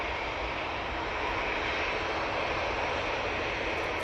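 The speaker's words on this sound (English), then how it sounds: "And that's TUI 737-800. It's off to Preveza." A TUI Boeing 737-800 departing Manchester Airport for Preveza gives a steady, broad jet roar that holds at a constant level for the whole stretch, fairly distant and unbroken by any voice.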